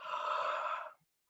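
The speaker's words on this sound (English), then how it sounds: "And then you can take a big yawn" A single big, drawn-out yawn taken during a gentle face and jaw relaxation exercise, a breathy open-mouthed exhale lasting under a second, close and clear with no talking.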